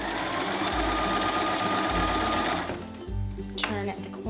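A sewing machine stitching face mask fabric with ties runs in a steady, close, whirring hum, then stops partway through, leaving quieter handling noises.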